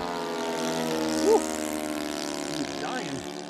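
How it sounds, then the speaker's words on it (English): Ultra Sport 60 model airplane engine, mounted inverted, buzzing steadily in flight at partial throttle, its pitch sliding up and down as the plane passes and maneuvers, with a brief louder swell midway. "the engine's mounted inverted, so when I fly upside down, it seems supposed to run better, but it doesn't"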